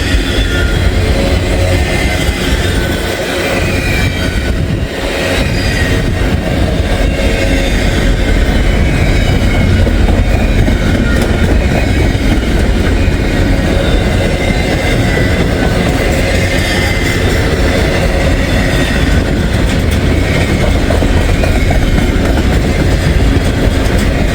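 A Norfolk Southern freight train rolls past close by in a loud, steady wash of rail noise with wheel clatter and faint squeal, filling the whole stretch without talk.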